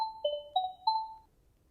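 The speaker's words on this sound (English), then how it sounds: "Suddenly his phone starts ringing." A phone ringtone chirps in a short melodic pattern of three or four clear electronic tones, fading after about a second into quiet.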